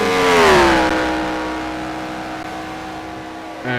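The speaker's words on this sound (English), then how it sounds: "here in Bahrain, driving the number 60 Ferrari" Number 60 Ferrari race car in a racing video game at Bahrain, a loud engine tone rising then easing off into a steady drone, ending with a brief burst of noise.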